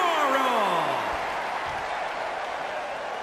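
Capacity arena crowd in the WWE 2K20 wrestling game cheers and applauds during a Hell in a Cell entrance, a dense steady roar with a falling tone sweeping down early on, no talk over it.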